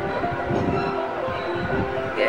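A train rumbles steadily at Kalyan railway station, with a continuous mechanical drone and rolling clatter amid busy platform ambience.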